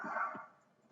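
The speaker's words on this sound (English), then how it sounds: "Pay no attention to that dog barking." A single faint dog bark sounds from a distance, brief and muffled, followed by quiet.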